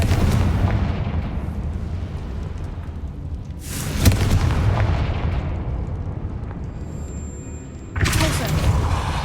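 Loud booming blasts from the Confringo explosion spell in a wizarding video game, three heavy bursts spaced a few seconds apart, each with a long rumbling tail.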